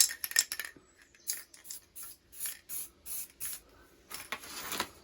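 An aerosol spray can applies paint to the rear end of an Abarth car in a series of short, close bursts with brief gaps between them, and a nearly empty can gives some uneven sputtering hisses.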